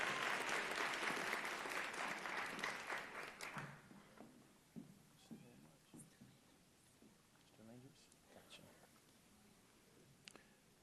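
Applause at a nursing school convocation ceremony fills the first few seconds densely, then fades into scattered claps and faint voices across a large hall.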